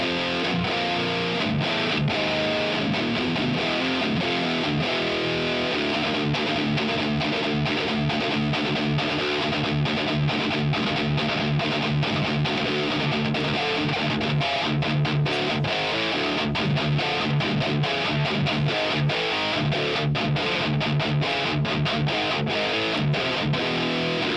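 Heavily distorted electric guitar riffing through the STL AmpHub amp-sim plugin: a loud, saturated, chugging rhythm with palm-muted bursts and sustained chords, played alone with no talk.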